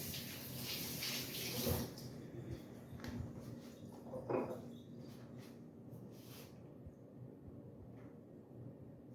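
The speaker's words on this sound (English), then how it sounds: "Wash my hands again." Tap water runs steadily while hands are washed in a home kitchen during shoyu ramen preparation, a continuous splashing hiss with a few louder bursts near the start and middle, fading slightly toward the end, with no talking.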